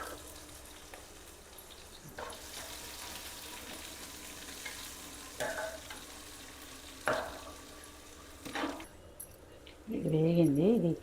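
Cumin seeds, onions and green chilies fry in a pan for a Telangana-style fish curry, a soft steady sizzle broken by occasional utensil clinks, with a person's voice near the end.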